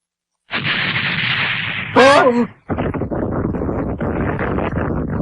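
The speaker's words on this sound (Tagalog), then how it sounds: "Mga paputok!" Loud, dense crackling bursts rattle on like a string of firecrackers, broken briefly by a shouted voice.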